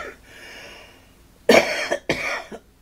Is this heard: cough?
yes